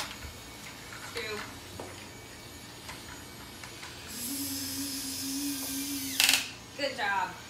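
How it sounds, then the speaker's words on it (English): A power drill drives screws into a toy RC car being reassembled. It gives a steady, fairly loud whir lasting about two seconds, followed by a short, sharper burst of drilling, with clicks and handling noise before and after. "Okay, now you can drill it in."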